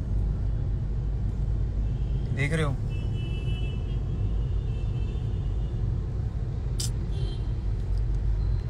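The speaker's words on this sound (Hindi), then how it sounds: "आप लोग को दिखाता हूँ इधर ट्रैफिक का हाल क्या है" Road traffic in India: a steady low rumble of passing vehicles, with a brief wavering horn blast partway through and another short tone near the end, while people talk over it.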